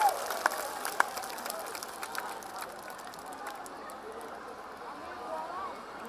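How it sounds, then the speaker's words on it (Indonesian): A crowd at an Indonesian campaign rally in Bandung claps for presidential candidate Anies Baswedan, steady distant applause that gradually thins out, with a few sharp claps near the start. "tepuk tangan untuk Bapak Anies Rashid Baswedan"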